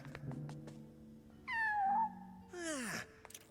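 A cat in LEGO Batman: Legacy of the Dark Knight meows twice, first a drawn-out falling meow, then a shorter one dropping sharply in pitch, clear and close over faint background sounds with no talk.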